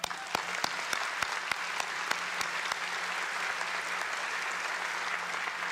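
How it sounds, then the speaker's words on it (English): Graduation audience applauding a student organization at a college commencement ceremony, a steady wash of clapping filling the hall with sharper individual claps standing out, continuous and even throughout. "Please join me in applauding this student organization's outstanding accomplishment."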